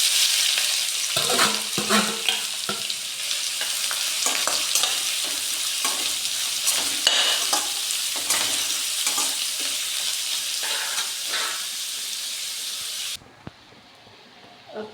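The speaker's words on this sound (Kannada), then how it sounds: "ಓಕೆ, ಇಲ್ಲಿ ಆನಿಯನ್ ಫ್ರೈ ಆಗ್ತಾ ಉಂಟು." Onions fry in a pan for a home chicken curry: a loud, continuous sizzle with frequent stirring scrapes and clatters, cutting off abruptly near the end and leaving near silence.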